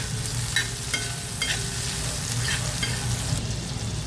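Greens sauté in hot oil with cumin seeds, a loud continuous sizzle broken by repeated scraping strokes of a spoon stirring the pan, no talking.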